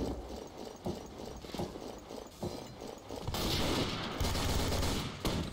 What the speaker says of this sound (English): Someone's firing at me.